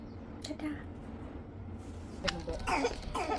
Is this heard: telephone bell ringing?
no